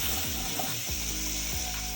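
Vegetables soften in hot vegetable oil in a pan, giving a steady close sizzle with faint stirring scrapes throughout, no voices.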